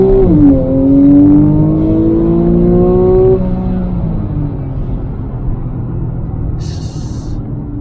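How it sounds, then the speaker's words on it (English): A 2012 Porsche Carrera S accelerating hard in Sport Plus mode, its engine note climbing loud and close through a rising pitch, then easing off into a steady lower drone with a brief hiss near the end. "So firm on the brake, quick on the accelerator."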